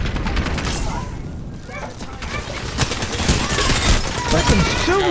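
Gunfire in a video game firefight inside a building, with shots coming through a window: a dense clatter of repeated shots throughout, with players talking over it.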